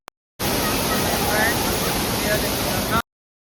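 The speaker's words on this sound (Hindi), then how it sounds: "ये है वाटरफॉल, 3 धाराएं। और अभी मैं इसका आपको सुर भी सुनाऊंगा कि सुर कैसा है इसका।" A hidden three-stream waterfall near Chakrata, Uttarakhand, roars with a loud, steady broadband rush of falling water for about two and a half seconds, then cuts off abruptly.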